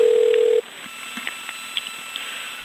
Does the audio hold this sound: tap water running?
no